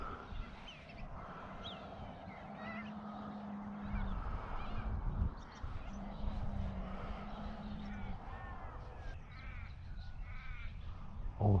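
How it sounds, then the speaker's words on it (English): Crows caw repeatedly outdoors among other birdsong, calls rising and falling over a low rumbling background with faint voices. "Birds are singing and the sun is shining."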